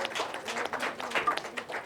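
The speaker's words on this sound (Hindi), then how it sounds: "तालियां आपकी कमजोर हैं, ये जोर से बजाइए।" Light, scattered applause from an audience at a Hindi poetry recital (mushaira), a thin patter of claps rising and falling without building to a loud ovation.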